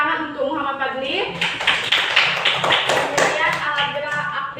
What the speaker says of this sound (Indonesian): Beri tepuk tangan untuk Muhammad Fadli.